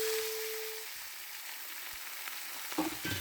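Eggplant and potato frying in mustard oil with nigella seeds and whole dried chillies, a faint, even crackling hiss with a couple of small clinks near the end.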